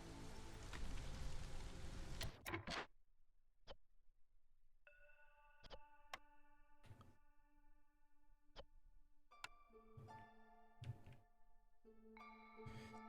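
Soft drizzle hisses for about two seconds in the Against the Storm game, then cuts out, followed by scattered interface chimes, clicks and tonal dings over near silence.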